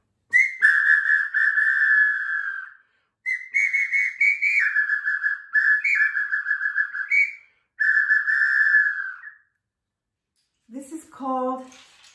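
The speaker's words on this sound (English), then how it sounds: "So this little whistle here made by Indians also sounds like birds" A small hand whistle plays long, bird-like warbling tones in several phrases with short pauses, followed by a brief different call at the end.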